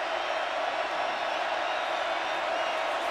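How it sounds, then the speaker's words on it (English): A large college football stadium crowd at a 2012 West Virginia versus Texas game sends up a steady, unbroken roar. It stays even and distant-sounding throughout, without distinct claps or shouts standing out. "Crowd really getting into it now"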